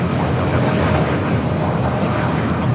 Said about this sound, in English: That's a flight heading to Tokyo Haneda, flight 27 on the American 787-8 Dreamliner.